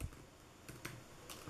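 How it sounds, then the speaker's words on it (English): Someone types on the compact keyboard of a GPD Win Max handheld PC, a few faint, quick key clicks scattered irregularly over a quiet background. "I am going to do a little bit of typing."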